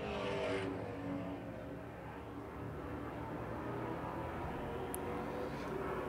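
Late model stock cars race around a short oval track, a steady layered engine drone with cars running side by side, loud and continuous with no voices.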